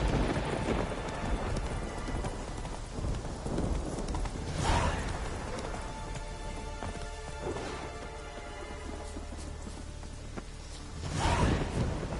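Roach the horse's hooves clip-clop at a steady gait through rain in The Witcher 3, with brief louder swells near the start and end and no talk.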